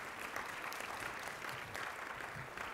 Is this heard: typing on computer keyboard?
no